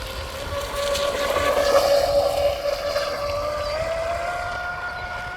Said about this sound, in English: This is the new Surpass Hobby's 3100 kV motor.